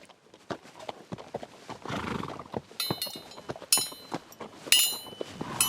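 Polo horses on a New Zealand field, with quick clip-clopping hooves in an uneven rhythm close by, broken by several loud, high neighs and whinnies in the second half.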